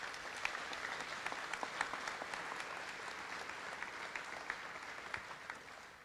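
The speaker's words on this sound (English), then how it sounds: "I hope you would give her applause right now." An audience at a scholarship night claps steadily and evenly, a sustained mid-distance patter of applause that fades slightly at the end.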